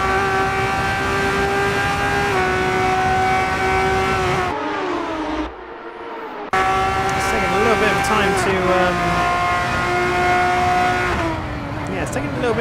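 Formula 3 race cars scream past at high revs in a championship race, with steady, whining engine tones that drop out briefly and then return as the pack continues, with commentators talking over the noise.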